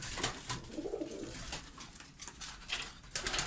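Pigeons cooing in a breeding coop, soft throaty coos layered over a busy background of fluttering and shuffling birds, steady and fairly close with no voices.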